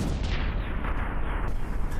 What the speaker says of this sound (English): we had some explosions